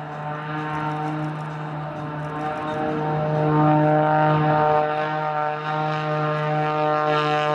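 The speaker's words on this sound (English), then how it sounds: "Look, hear the noise of the engine." A Pitts Special aerobatic biplane's propeller engine drones steadily and loudly at an air show, a strong buzzing hum with a rich harmonic tone that swells slightly as it passes.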